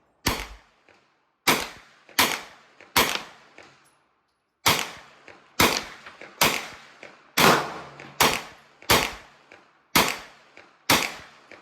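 A Marlin Camp 9 9mm carbine fires at an outdoor shooting range: about a dozen sharp, loud reports in uneven succession, some quick pairs, each with a short decaying echo and brief pauses between.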